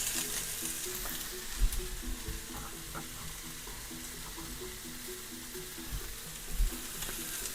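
Garlic and onions sizzling in a hot pan, a constant crackling fry with occasional soft clanks of a utensil stirring, close and moderately quiet.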